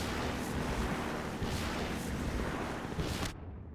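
A grenade explosion in Half-Life 2 rings out as a loud, sustained rumbling blast with crackling bursts, staying heavy for about three seconds before cutting off abruptly into a fading low tail.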